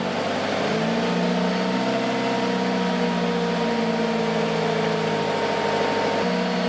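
A car engine idles and gets a light blip of throttle while parked with the headlights just switched off, a steady close drone whose pitch rises gently, holds, then settles with a small step near the end.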